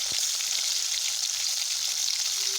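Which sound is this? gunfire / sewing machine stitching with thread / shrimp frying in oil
shrimp frying in oil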